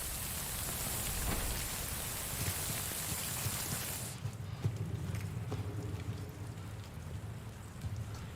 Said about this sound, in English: Wait out the rain over there.